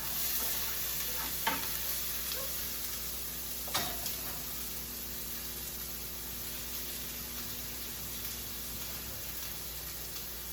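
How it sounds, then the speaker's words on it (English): Oil sizzles steadily in a hot pan before chicken goes in for butter chicken, a constant hiss with a couple of faint clicks, no talking. "So my oil's nice and hot."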